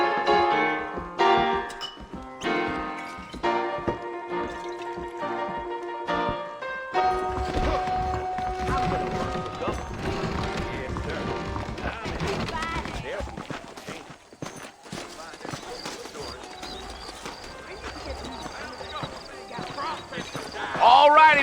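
Horses clip-clop at a trot in the video game Red Dead Redemption, a rhythmic run of hoofbeats continuing under game sounds and voices throughout.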